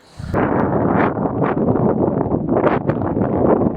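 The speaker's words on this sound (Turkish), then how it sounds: "Çok rüzgar var" Strong wind buffets the microphone in a steady, loud roar with gusty surges throughout, at the Horma and Valla canyons in Kastamonu, Turkey.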